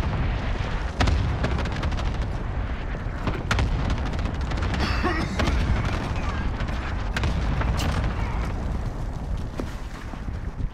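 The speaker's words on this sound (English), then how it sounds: "Cluster strike away." Cluster strike explosions in Call of Duty Warzone pound away as a dense barrage of loud, booming blasts and sharp cracks, continuous and rumbling throughout with repeated distinct hits.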